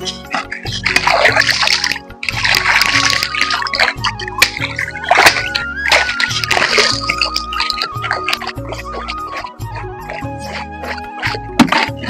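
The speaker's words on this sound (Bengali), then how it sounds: "বঁটিটা আমি ধুয়ে নিই" Water splashing and sloshing as a boti, a curved floor-mounted cutting blade, is rinsed outdoors; continuous close splatter and dripping with several louder bursts throughout, no talk.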